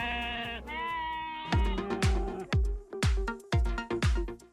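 A flock of sheep used for grazing on a farm nature preserve bleats repeatedly, several overlapping calls from nearby animals, with sharp bursts and a few sustained wavering cries and no talk.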